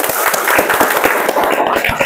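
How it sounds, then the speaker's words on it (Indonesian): Audience clapping in a classroom session, a dense burst of many hands applauding together, loud and close, with voices mixed in. "silakan tepuk tangan untuk kalian semua"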